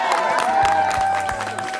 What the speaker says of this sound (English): Give yourselves a big round of applause, first of all.